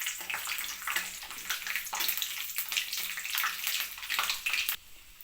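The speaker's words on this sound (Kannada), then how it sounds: "ಇಷ್ಟನ್ನು ಚೆನ್ನಾಗಿ ಫ್ರೈ ಮಾಡ್ಕೊತಾ ಇದ್ದೀನಿ." Chana dal and urad dal fry in a pan for a palya, giving a dense, steady crackling sizzle, close and moderately loud, that fades out at the end.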